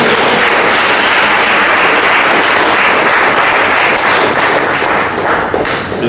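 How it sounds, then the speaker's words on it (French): Sustained, dense applause from an audience at a general assembly and new-member induction ceremony of the JCI Abomey-Calavi chapter, loud and continuous for the whole stretch with a slight dip near the end. "Le problème, c'est que je ne vous ai pas demandé d'applaudir"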